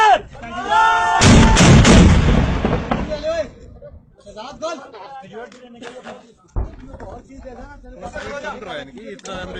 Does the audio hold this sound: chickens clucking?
no